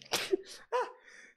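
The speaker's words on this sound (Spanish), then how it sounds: "Los clímax me hacen estornudar." A single sharp sneeze bursts out, followed by a short breathy vocal sound and the start of another noise, close and fairly quiet with no speech.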